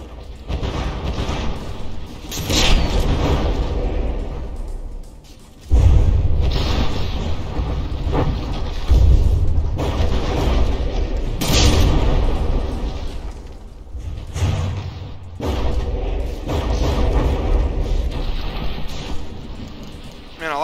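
Battleship shells fire and explode in From the Depths during a tournament battleship brawl, with heavy booms surging every few seconds over a continuous loud low rumble while a person talks throughout.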